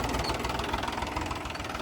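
A tractor engine runs close by on a farm field while spraying pesticide, a loud, steady, low knocking diesel chug with a rapid regular pulse throughout, with no talk.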